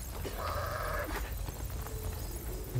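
Goat in the video game Horizon Forbidden West gives a single short bleat over low rumbling game ambience, moderately close and not very loud.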